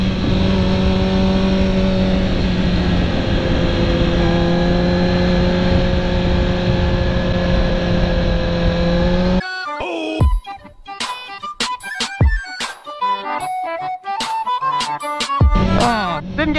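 A motorcycle ridden hard around a roundabout, its engine droning loud and steady, then breaking into choppy bursts of revving and gear changes.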